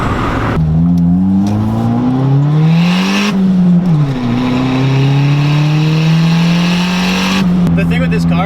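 A turbocharged Honda Civic EG hatchback with a turbo blanket and heat wrap accelerates hard from inside the cabin, its engine droning upward through the gears with rising pitch, a shift dip midway, and loud, sustained exhaust.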